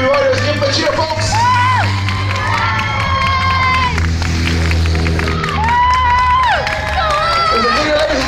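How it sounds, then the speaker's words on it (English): A crowd cheers and whoops loudly and steadily as fourth-category riders finish a bicycle race at the Nenagh Classic, with children shouting and high whistles rising over the roar. "The fourth category riders, give them a cheer, folks."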